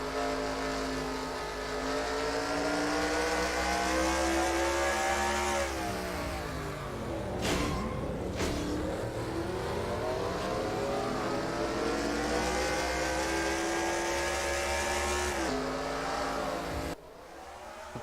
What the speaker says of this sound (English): our third and final onboard with the car that was dominant for the first 50 laps, Mitchell Henderson.